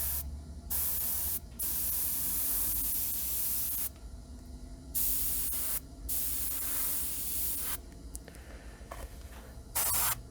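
Airbrush spraying paint in repeated bursts under trigger control, a steady broadband hiss lasting a second or more each time, with short silent gaps between passes.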